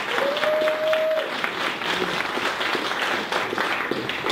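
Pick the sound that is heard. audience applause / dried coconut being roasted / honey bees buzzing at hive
audience applause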